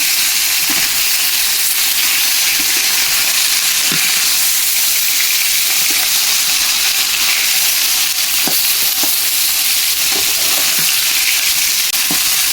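Fish and taro frying in hot oil for a traditional Bengali taro fish curry, a steady close hiss broken by scattered sharp pops and spatters, with no voices.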